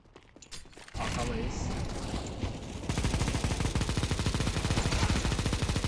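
Rapid gunfire from a first-person shooter video game, dense repeated bursts that swell louder partway through, with excited voices talking and laughing over it.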